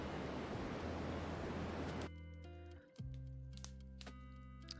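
White noise played during a livestream: a steady, loud broadband hiss for about two seconds, then an abrupt cut to a quieter low hum with faint sustained tones.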